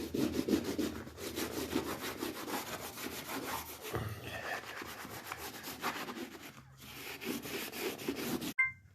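Steady scrubbing of mould off a surface during an end-of-tenancy clean, a close, rhythmic rubbing that continues with brief pauses.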